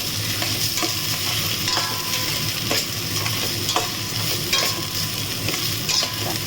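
Rice is fried with garam masala, cinnamon, cardamom and cloves in a pan for khichuri, a close sizzle with repeated scraping stirs and light clatter at an uneven rhythm.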